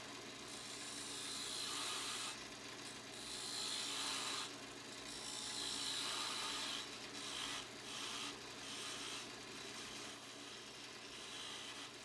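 A segmented wooden pen blank spinning on a lathe mandrel as a tool turns it down, giving a continuous scraping and rubbing hiss that swells and fades in repeated passes, close and fairly quiet.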